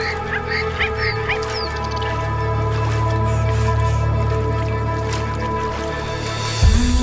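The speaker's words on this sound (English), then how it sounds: "A pair of grey-crowned cranes stand beside the water, putting on a fabulous display." A pair of grey-crowned cranes honk and call beside a waterhole in Kenya's Masai Mara, a few clipped cries early on, then a sustained low resonant booming and a loud call at the end.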